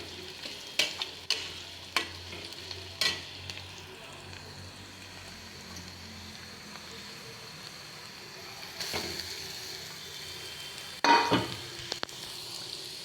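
Chopped carrot curry frying and being stirred in a pan over high heat, a low steady sizzle with scattered clinks and scrapes of the spoon, a louder burst of stirring near the end.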